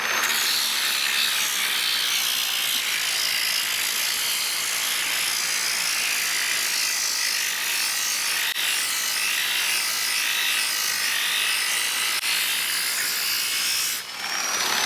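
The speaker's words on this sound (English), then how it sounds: "And then we're going to sand it right here." A raw, chiseled edge of a circular mosaic tile is sanded with a continuous, bright abrasive buzz that stays loud and even throughout, close to the listener, with no talking.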